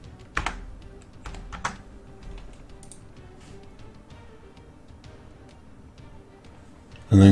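Computer keyboard typing in short, scattered bursts of clicky keystrokes, with a couple of louder taps early on and softer, sparse keys afterward, recorded close in a quiet room.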